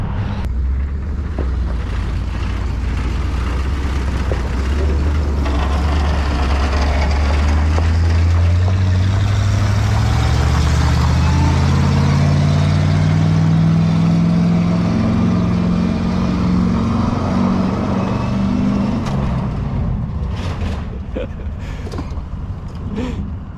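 A diesel truck being push-started in the cold catches and builds up, its loud engine note climbing steadily in pitch before dropping away, with heavy wind rumble throughout.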